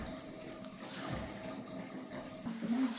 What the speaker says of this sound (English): still waiting for this hot water tank to get drained